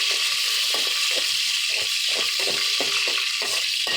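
Whole cloves and bay leaves fry in hot oil in a pan for a vegetable dal, giving a steady close sizzle broken by regular scraping and clinking strokes of a spoon stirring.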